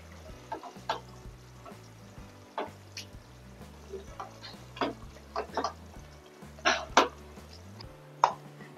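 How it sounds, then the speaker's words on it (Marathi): Cooked vegetables being mashed in a pan for cheese paneer ghotala, with repeated soft thuds and scrapes of the masher against the pan at an uneven rhythm, over steady background music. "आपण हे थोडं मॅश करून घेऊया."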